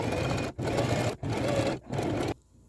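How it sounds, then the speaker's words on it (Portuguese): A sewing machine topstitches a seam on a pleated skirt in three quick, loud bursts of rapid needle chatter separated by brief pauses, then stops. "agora eu volto lá para a máquina e eu vou dar um pesponto aqui"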